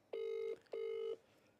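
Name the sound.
telephone ringing while placing a call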